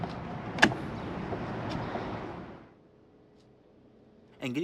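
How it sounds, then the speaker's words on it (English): A sharp click, then the door of a 2006 Volvo S60 R swings open with a soft mechanical hum of the vehicle interior before settling into quiet, and another click at the end. "let's go ahead and open the door and check it out"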